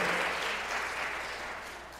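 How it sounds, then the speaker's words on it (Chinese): A room full of people clapping steadily during a church Sunday service, a dense, continuous round of applause that slowly fades a little. "我们拍手"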